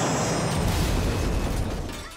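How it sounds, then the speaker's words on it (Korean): A top-grade magic hair dryer explodes in a fantasy anime shop, giving a loud, sustained burst of broadband noise that tails off near the end, with no voices. "가게 내 최고급 마법 드라이어가 폭발해버렸지만 말이죠"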